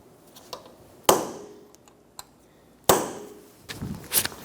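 Sharp metallic strikes of a hammer on a punch staking the axle nut of a 2003-2007 Honda Accord: two loud, close blows with a few lighter taps between and a softer knock at the end.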